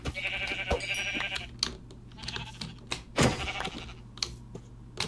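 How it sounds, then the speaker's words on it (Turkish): Sheep in the Minecraft video game bleat in short, repeated calls while being killed, mixed with clicks and game effects, with no talking over them. "full koyun kesiyorum"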